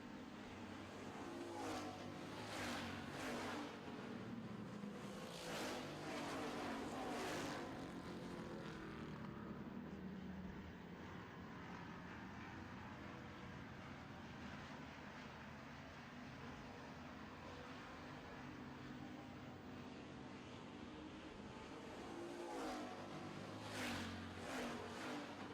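Street stock race cars roar around a short oval track during a feature race, with several engines passing close and fading in steady waves of continuous loud revving throughout.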